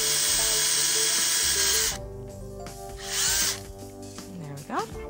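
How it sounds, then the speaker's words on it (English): A power drill bores through two stacked pieces for rivets while making a beer holster, starting with a loud steady whine, then running lower and uneven as the bit cuts, with a brief speed change near the end. "I'm going to drill through both pieces here"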